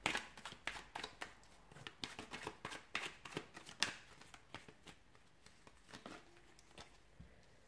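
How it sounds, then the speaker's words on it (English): Tarot cards being shuffled, a rapid run of soft riffling snaps and flicks, close but quiet, with no voices. "give the cards a shuffle"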